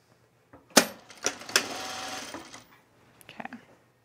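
A sewing machine stitches a seam of culottes in a few short, close bursts of rapid whirring, the longest lasting about two seconds, then falls quiet before one brief final run.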